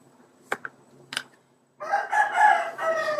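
After a couple of short sharp knocks, a fighting rooster crows loudly in one long, ragged call that fills the rest of the moment.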